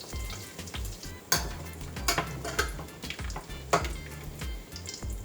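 Bacon and chorizo fry steadily in a pan with a dense, continuous sizzle, punctuated by several sharp pops and crackles and faint clinks of a utensil against the pan.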